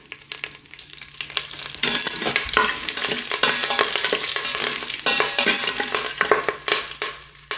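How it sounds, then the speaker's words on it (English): Lots of curry leaves crackle and sputter in hot oil for a tempering in an Instant Pot, a dense, continuous sizzle with stirring that swells loud after the first couple of seconds, with no talking. "I'm going to add lots and lots of curry leaves, and I'm going to turn off my instant pot so our tempering won't burn."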